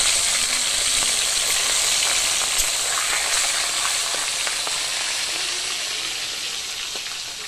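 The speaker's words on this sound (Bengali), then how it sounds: "এবারে মাছের মাথাগুলো এক এক করে সব ভেজে নেব" Fish heads frying in a pan of very hot oil, a loud, dense, continuous sizzle with faint crackles and occasional stirring, heard close up with no voices.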